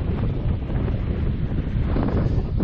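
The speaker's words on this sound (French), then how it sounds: "Et il y a toujours ce vent contraire." Strong headwind buffeting the microphone while riding a SuperWheel 700 mm, a loud, constant low rumble of wind noise with no talking.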